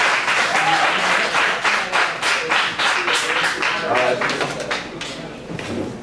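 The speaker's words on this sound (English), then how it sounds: "Give a rousing round of applause for the Yippie Cafe." A crowd at the Yippie Cafe in New York, May 2012, gives a round of applause, loud clustered clapping with some cheering voices mixed in, tapering off toward the end.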